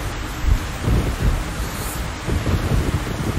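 Thunderstorm with heavy rain in the video game Metro Last Light: dense steady rainfall with low rumbling thunder swells and wind, loud and continuous throughout.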